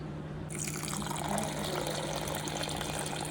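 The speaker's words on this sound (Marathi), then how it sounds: "भरपूर पाणी ओतून मी भरपूर पाणी ओतलेलं आहे" Water starts pouring into a container of washed lentils for soaking and keeps flowing steadily, close and fairly quiet, with a low background hum.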